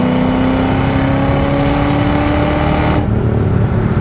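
Supercharged 2006 Ford Mustang Saleen with the 4.6 engine driving hard, a loud, steady engine drone with a strong tonal whine that holds for about three seconds before easing off as the load drops.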